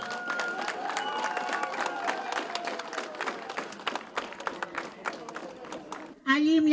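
A crowd claps and cheers steadily for several seconds, dense and sustained, before a voice breaks in at the end.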